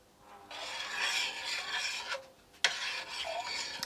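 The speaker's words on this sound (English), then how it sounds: "I'll just give this a little stir." Coconut oil and lavender herb-infused oils melting in a soap-making pot are stirred with a steady scraping, rasping sweep, close and moderately loud, broken by a short pause and a sharp knock against the pot.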